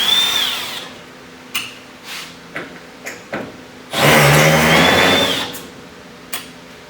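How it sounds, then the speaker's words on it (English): A power drill backs out screws in short whirring bursts close up: several brief spins, then one longer steady run, with a whining pitch that rises and falls as it speeds up and slows down. "start taking out screws with something that can hold the screws in hand"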